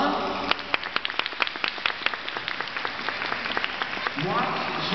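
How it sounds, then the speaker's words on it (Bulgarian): An audience applauds at a dolphin show at the Varna Dolphinarium, with sparse, uneven claps scattered through the crowd in an open arena. Background voices and murmuring continue underneath. "От дясно на ляво първите аплодисменти са за Йоана."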